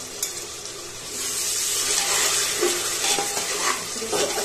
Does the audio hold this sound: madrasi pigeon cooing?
no